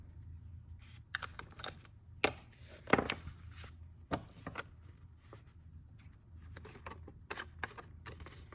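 Sharp irregular snips and cuts as paper is trimmed for a junk journal, each crisp crunch standing alone against quiet room hiss, close and moderately soft.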